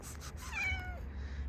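A domestic cat lets out a single drawn-out meow, close and clear over a low steady background hum.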